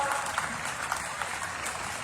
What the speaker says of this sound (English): How about a round of applause for all three of those teams on that final roll?